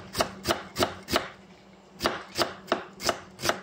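A knife chops vegetables on a board for a fish dish, nine crisp, evenly paced close thuds in two runs separated by a short pause, no talk.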